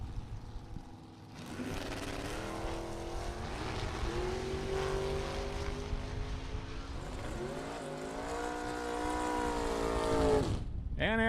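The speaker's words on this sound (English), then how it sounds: "His opponent, Anthony Lane, the rear engine dragster." Drag racing run between an Olds Cutlass door car and a rear-engine dragster, with loud, sustained engine roar rising in pitch through gear changes over about ten seconds, close and continuous, ending in a sudden cutoff.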